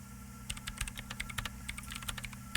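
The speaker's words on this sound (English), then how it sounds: "She's behind the keyboard now," Rapid, uneven keystrokes on a computer keyboard at a terminal in the Disco Elysium video game, close and crisp clicks over a steady low hum, with no talking.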